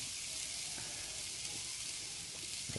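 Teriyaki chicken wings sizzle steadily over direct heat on a Weber Kettle grill, a constant dense hiss and crackle that stays even throughout, close and fairly soft.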